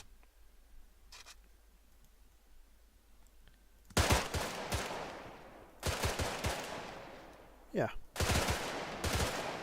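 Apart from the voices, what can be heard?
AK-74 rifle gunfire in a video game (Arma mod)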